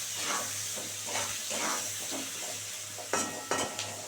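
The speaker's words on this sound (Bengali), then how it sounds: "দিয়ে পেঁয়াজটা একটু ভালো করে ভাজা ভাজা করে নিই," Chopped onions fry in a pan for a prawn curry, a close, steady sizzle with rhythmic scraping strokes as they are stirred, ending in a few sharper clanks of the spoon against the pan.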